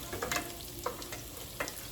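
Wooden utensil stirring and scraping an oil and flour gravy in a pan, with soft irregular scrapes over a steady low sizzle of hot oil.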